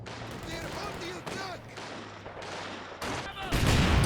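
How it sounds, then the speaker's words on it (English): Machine gun fire in the strategy game Company of Heroes 2, a mid-distance infantry battle with rattling bursts and scattered shots over a low rumble, ending in a louder burst of heavy fire. "the machine gun opened up with the main"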